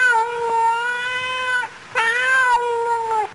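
A cat meows loudly and close up, giving two long, drawn-out wailing calls with a short pause between them.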